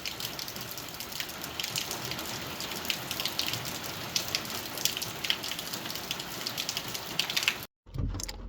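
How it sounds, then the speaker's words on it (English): Heavy rain pours down hard in the UK, a dense, continuous hiss of water hitting surfaces that stays loud and steady throughout, then breaks off briefly near the end. "It is absolutely belting down with rain here."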